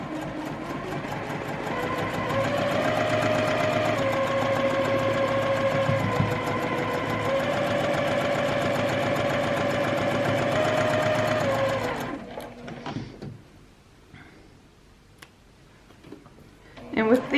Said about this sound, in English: Now we're going to sew that 1/4 inch again.